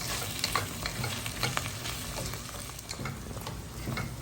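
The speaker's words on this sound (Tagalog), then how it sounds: "Nilagay ko na yung mushroom tsaka onion. Gisa-gisa mo lang, no?" Mushroom and onion sauté in a pan, a loud continuous sizzle broken by irregular scraping and stirring clatter, close up with no talking.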